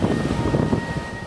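Wind buffeting the microphone while riding along a road, a loud continuous low rumble and rush with no talk.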